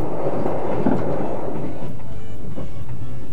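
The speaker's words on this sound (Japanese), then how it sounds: "列車は伯耆大山駅を通過します。" The Yakumo limited express runs on rails past Hōki-Daisen Station toward the JR Hakubi Line, with a loud, continuous rumble and rattling clatter from close by. No one speaks.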